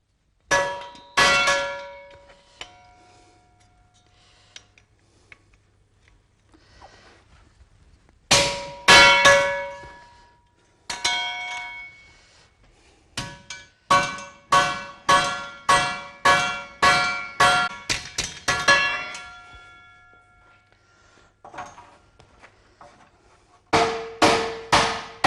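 A cooper nails and hammers a handmade wooden wine barrel, sharp metallic clangs ringing out in quick bursts and then a long steady run of evenly spaced strikes, close and loud with pauses between sets.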